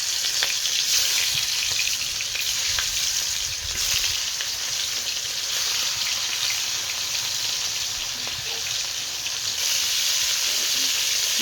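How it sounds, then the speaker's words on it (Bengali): Marinated fish pieces fry in hot oil in a wok, giving a loud, dense, continuous sizzle that holds steady close by with occasional pops and no voices. "মাছগুলো এবার ভালো করে ভেজে নেব।"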